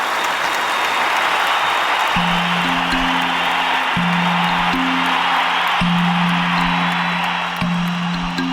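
Dense, sustained audience applause at an Idli Kadai film audio launch show welcoming a singer. The loud crowd clapping holds steady throughout as sustained instrumental tones begin to sound beneath it.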